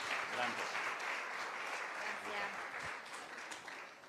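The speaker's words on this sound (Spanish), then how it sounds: "La recibimos también con un aplauso" Applause from a church congregation fills the space, a steady broadband wash of many hands clapping at moderate loudness, with faint voices mixed underneath.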